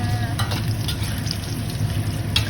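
Dried anchovies fry with garlic in hot oil, a steady close sizzle with soft stirring scrapes and faint crackles running through the whole stretch, no one speaking over it.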